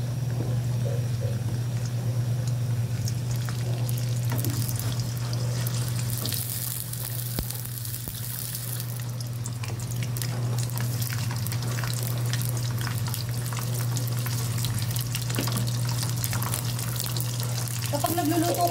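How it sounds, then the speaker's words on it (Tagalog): Chicken feet frying in hot oil for adobo, a steady bubbling sizzle with crackles and pops running throughout under a constant low hum. "Ipiprito ko po muna yung chicken feet para mamaya sa pagpapalambot hindi siya malusaw."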